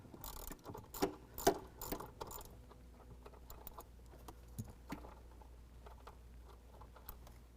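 A bolt being worked loose with hand tools on a 2022 Jeep Wrangler, near the OBD connector at the front: a few sharp metallic clinks and ratchet-like clicks early on, then sparse quieter ticks over a low steady hum.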